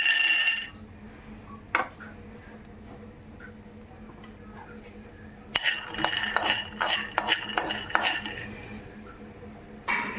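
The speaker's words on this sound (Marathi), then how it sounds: "शेंगदाणे पण भाजून घ्यायचे आहेत आपल्याला" Peanuts roasting in a metal pan, heard as quiet scattered taps and then a burst of rattling, scraping stirs with the spoon knocking the pan, close by.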